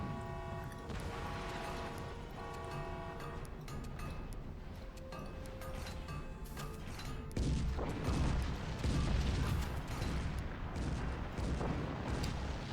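Cannons fire repeatedly in the artillery strategy game Forts, a dense stream of overlapping booms and crackling impacts under layered game sound effects, intensifying into a heavier barrage in the second half.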